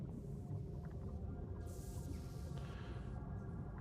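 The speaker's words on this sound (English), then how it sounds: "You got some like weird whale-like sound chirps going on." Ambient game audio from Ninja Gaiden 2 in a subway area: faint, whale-like chirping calls float above a constant low rumble and hiss, steady and unbroken, with no talking.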